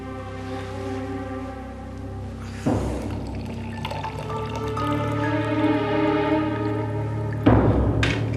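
Drinking water pours into a glass indoors with a continuous trickling stream and a rising fill tone, broken by a clink partway through and again near the end, with no talk.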